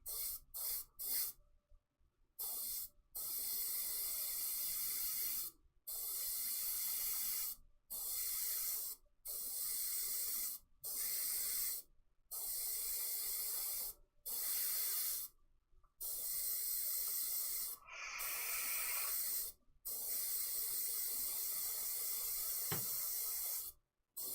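An aerosol finish is sprayed onto a woodturning project in a run of about ten short bursts, each a sharp, close hiss lasting a second or two, separated by brief silent pauses.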